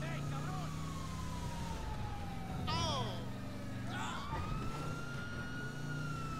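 Police sirens wail in a GTA 5 cop chase, with several rising and falling sweeps overlapping over a rumbling engine bed. The sirens are loud and near.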